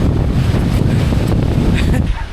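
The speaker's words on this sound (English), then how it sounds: "Sorry about the wind, yeah, because it's proper windy right now" Strong wind buffets the microphone in a loud, rumbling roar for a couple of seconds before easing slightly at the end.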